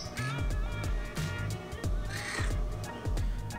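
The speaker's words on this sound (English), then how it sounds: "The bird's nice, but it's so loud and shrieky sometimes." Loud, harsh pet bird squawks repeat several times in quick succession close by, raspy and shrill, with no talking.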